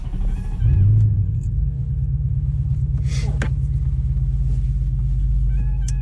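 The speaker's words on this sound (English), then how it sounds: "Go for a little test drive here" An Infiniti Q45 with a swapped M45 transmission control module on a test drive, its engine rumbling low and steady from inside the cabin throughout, with a brief rise in level early on.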